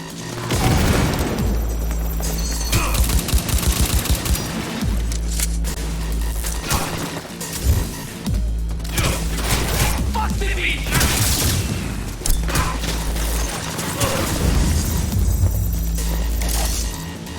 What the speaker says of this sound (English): Since I'm recording this, let's just go guns blazing now